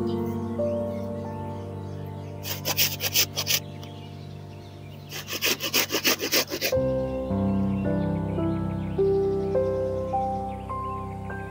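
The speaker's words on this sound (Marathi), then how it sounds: "हे बघा हे मावशीने किसायला घेतलंय" An ash gourd (petha fruit) is grated by hand, heard as two separate bursts of quick, rhythmic rasping strokes over steady background music, with no speech.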